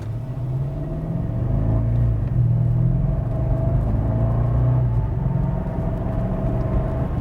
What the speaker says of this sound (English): All you hear is just the muted growl of the V8.